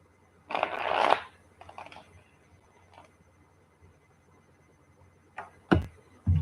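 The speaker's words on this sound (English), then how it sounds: "One more shuffle." Tarot cards are shuffled up close with a quick riffling burst, followed by a few softer slides and sharp taps in a quiet room.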